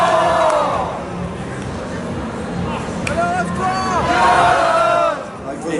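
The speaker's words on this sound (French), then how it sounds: "Le compte de l'arbitre sur les encouragements de la foule." A crowd at a live wrestling match at Paris Manga cheers and chants loudly and continuously, swelling near the end, with voices shouting within the mass of noise.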